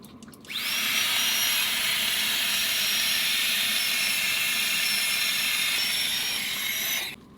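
A steady, loud electric air pump whine with a high-pitched hum starts abruptly and runs evenly for several seconds inflating an air mattress in a winter tent, then cuts off.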